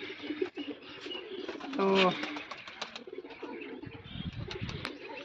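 Newly caught pigeons held in a net coo and chirp softly, with a brief burst of wing flapping, while someone talks over them close by.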